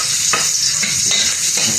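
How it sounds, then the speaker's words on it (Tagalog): Garlic dropped into hot cooking oil sizzles loudly and steadily, with a few brief scraping stirs of a utensil breaking through the hiss at regular intervals. "Ilagay na natin yung bawang."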